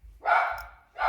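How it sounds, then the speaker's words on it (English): A dog barks once nearby, a loud single woof followed by a second bark starting at the end, with no talk. "That's my dog."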